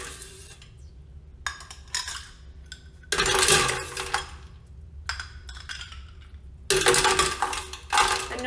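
Ice rattling and clinking as it is scooped from an ice bucket while an apple cider old fashioned is being made, heard in several loud bursts of clatter separated by quieter gaps.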